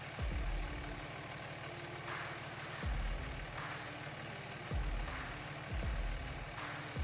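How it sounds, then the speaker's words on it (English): A 2003-2009 Dodge Ram with a Cummins diesel engine idles close by, a low steady rumble with a periodic heavy knock-like pulse repeating roughly every second and a half. "Once the system has been primed, start the truck."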